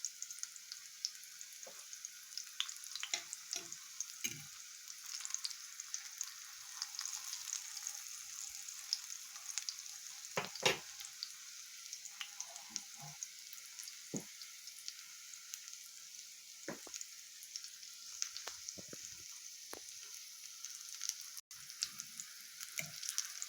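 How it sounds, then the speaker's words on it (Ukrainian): Steady crackling sizzle of zucchini frying in a pan, with occasional louder pops and soft clinks, no voices. "Ось так, виклавши на сковорідку, підсмажуємо наші кабачки."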